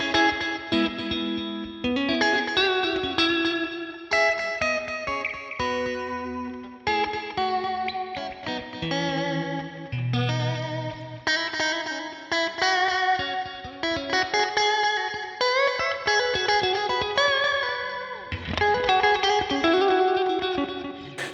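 Electric guitar with a clean tone through a Line 6 Helix on the US Double Nrm amp model, playing a continuous flowing mix of chords and single notes with reverb and chorus-like shimmer, steady and fairly loud.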